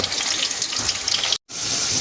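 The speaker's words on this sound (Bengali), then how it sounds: "আমরা কিন্তু বাঙালি স্টাইলে আলু একটু ভেজে নেব" Oil sizzles and crackles steadily as potatoes fry, a close, even hiss that cuts out for a moment before resuming.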